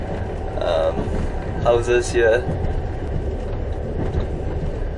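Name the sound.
passenger train running on rails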